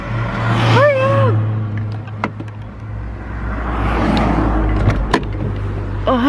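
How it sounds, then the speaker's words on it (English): Cars pass by on a road, a steady broadband rumble that swells and fades and stays loud through most of the stretch, with brief sharper sounds and a faint voice in between. "Now all of a sudden all the cars want to pass by."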